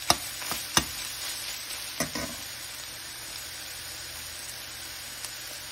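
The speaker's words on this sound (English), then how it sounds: "Next, I cook 2 pounds of Jimmy Dean sausage meat." Two pounds of Jimmy Dean sausage meat fries in a pan, a steady hiss of sizzling with a few sharp crackles and pops near the start, heard alone with no talking.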